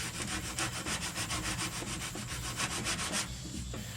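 Rough, steady rasping of 36 grit heavy sandpaper scrubbed back and forth across a car body panel, in a fairly quick rhythmic stroke at close range with no talking.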